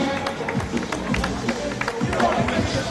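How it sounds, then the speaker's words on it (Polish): A crowd at a charity basketball game between KS Basket Piła and local VIPs claps and cheers for the players, a steady dense roar of applause and shouts with voices mixed in. "Wielkie brawa dla zawodników basketu. Okrzyk."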